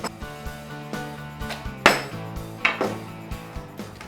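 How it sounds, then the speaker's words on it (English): A dead blow hammer taps wood pieces of a floating torsion box shelf into place on a flat workbench, with a string of dull knocks at uneven intervals and a few sharper, louder hits, near and without speech. "Each piece is tapped into place on the flat surface of my workbench using a dead blow hammer."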